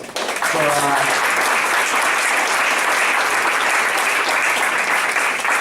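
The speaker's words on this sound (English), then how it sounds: "Just give yourself one last round of applause." A voice speaks briefly at a board of education meeting, then a large crowd breaks into loud, sustained clapping that carries on steadily to the end.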